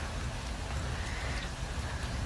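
Steady rain falls at a lake during a fishing trip, a continuous close hiss of drops with no other clear sounds.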